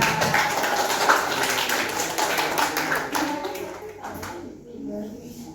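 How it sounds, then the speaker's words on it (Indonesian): A group applauds in a classroom or training session, with dense, steady clapping from many hands over several seconds that fades near the end, while voices talk in the background. "Oke, tepuk tangan buat kita semuanya."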